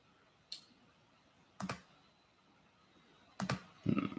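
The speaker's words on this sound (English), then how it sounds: "Sorry if the typing's a little loud." A few sharp keyboard keystrokes click while an email address is typed, sparse isolated taps spaced apart in a quiet room.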